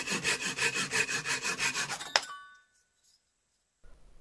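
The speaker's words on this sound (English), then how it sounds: "cut the wood using your favorite handsaw" A handsaw rips through a length of 1x2 wood in steady, rhythmic back-and-forth strokes, about a dozen rasping passes close to the microphone, ending with a sharp snap as the piece breaks off, then silence.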